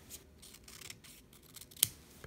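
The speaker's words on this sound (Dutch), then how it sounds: "Ik ga hem nog even afknippen." One quick snip of scissors cutting off a protruding edge of paper on a folded paper candle, a brief crisp click heard close against faint room noise.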